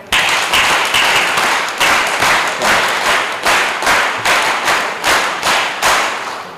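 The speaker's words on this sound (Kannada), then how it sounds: "ಒಂದು ಚಪ್ಪಾಳೆ ಪಡ್ಲೆ" A crowd at the closing ceremony of an alcohol de-addiction camp claps in rhythmic unison, loud, even bursts repeating about twice a second, close and with no talking.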